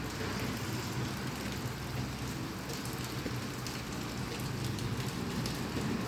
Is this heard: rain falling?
yes